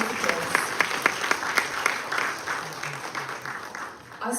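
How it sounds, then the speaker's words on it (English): Audience applause at an indoor book launch of a legal book, a steady spread of clapping from a seated crowd that swells, thins toward the end, then picks up again briefly. "Can you please have a round of applause?"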